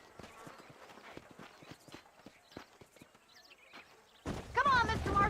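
Horse hooves clip-clopping in the Red Dead Redemption video game, a steady run of hoof beats on open ground, followed near the end by a louder burst that sounds like a whinny or a voice.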